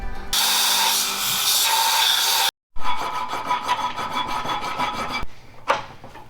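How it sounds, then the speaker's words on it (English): An angle grinder grinds a metal spring part from the seat of a barn-find Pontiac Firebird, a loud, continuous harsh rasping that cuts out briefly, restarts for several seconds, then gives way to a short final burst. "Time to hit the grinder now."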